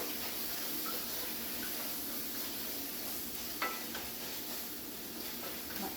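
Ground turkey sizzles and fries steadily in a pan for chili with tomatoes, onion and beans, with a soft clack of a utensil stirring it partway through and no talking.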